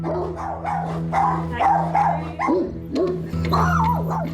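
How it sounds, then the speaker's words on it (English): A dog barks repeatedly and insistently, close by, with yelping, whining tones between the barks over a steady low hum. "Anyone who tries to enter his home is met with a barrage of barking."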